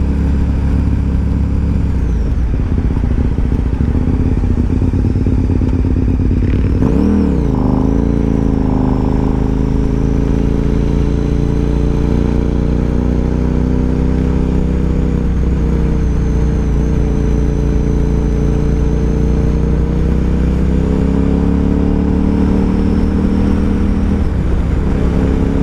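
A 2012 KTM 990 SMT supermoto-touring motorcycle is ridden on the road, engine droning loud and close under wind, pitch rising and falling with throttle changes and a sharp rev near the seventh second.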